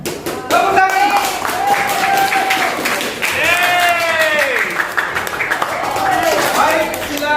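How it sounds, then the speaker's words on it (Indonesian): A classroom of students claps hands at the end of a timed quiz, with clapping scattered under overlapping teacher talk and whistly voices throughout. "Tepuk tangan."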